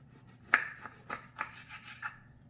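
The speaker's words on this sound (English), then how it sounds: "I'm going to just chop it down in the middle" A knife cutting a roasted pepper in half on a board, a sharp first contact followed by several softer slicing and scraping strokes, close and alone without speech.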